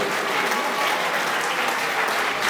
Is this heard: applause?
yes